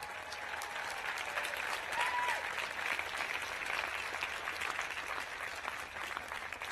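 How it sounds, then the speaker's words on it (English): Commencement crowd applauds in a broad, continuous wash of clapping, even and moderately loud throughout, with a faint cheer or whistle briefly rising above it. "So thank you for giving them a round of applause."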